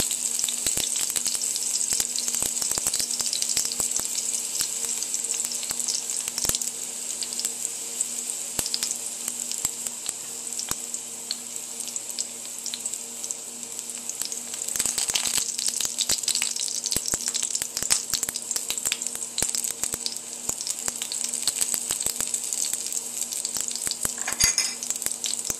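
Garlic sizzles steadily in about two tablespoons of duck fat in a skillet, a dense, continuous crackling hiss with scattered sharper pops, close and fairly loud throughout with no talking.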